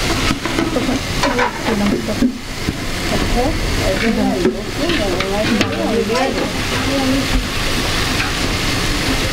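Potatoes frying with egg in a hot pan, a continuous sizzle with stirring scrapes underneath, close and fairly loud, with people talking over the cooking.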